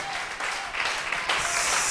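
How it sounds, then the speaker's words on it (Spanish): A church congregation bursts into applause for the Lord during a sermon, the clapping swelling and growing louder over a faint musical tone beneath. "Dale el aplauso fuerte al Señor."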